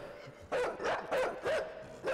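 Dog barking in the video game Inside: a run of four or five sharp, loud barks in quick succession, fairly close and alone without talk.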